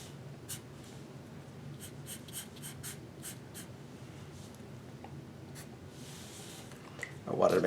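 A pencil sketches a face profile on paper in soft, close scratchy strokes that come in short repeated bursts, with quiet background sound between them.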